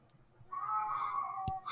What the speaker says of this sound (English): I'm sorry if you can hear my cat whining in the background